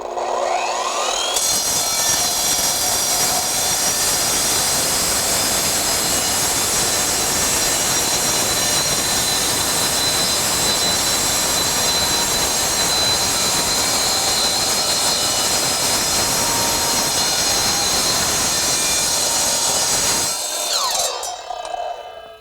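An Evolution multi-material miter saw slices through metal tubing in one loud, steady cold cut, blade spinning up briefly, grinding continuously for about twenty seconds, then winding down, with no voices.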